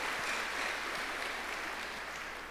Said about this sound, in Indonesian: Kita beri tepuk tangan untuk ketiga aktor kita.